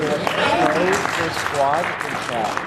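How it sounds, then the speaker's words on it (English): Applause from the crowd at a Rangerstop creators panel at an Orlando convention, steady clapping heard under a voice talking and calling out over it. "Let's give a round of applause for Rangerstop."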